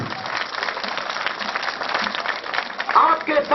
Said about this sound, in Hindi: और एक हाथ उठाकर तालियों का अभिवादन